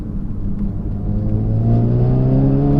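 A Renault Megane turbo hatch fitted with a Forge Motorsport turbo inlet adapter accelerates hard in gear, its engine note climbing steadily in pitch from a low rumble to a louder, rising drone, heard from inside the car with no talk.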